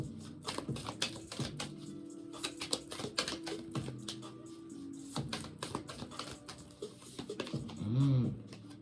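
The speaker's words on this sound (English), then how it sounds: "I said I weren't going to shuffle, and here I am shuffling again." Tarot cards being shuffled by hand, a run of quick riffling flutters and soft slaps close by, with faint low background sounds and a brief tonal noise near the end.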